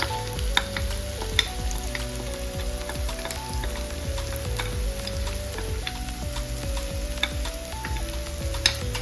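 Turmeric and fenugreek powder fry in a pan while being stirred, a steady sizzle with scraping strokes and a few sharp clicks, close and alone; music plays softly underneath.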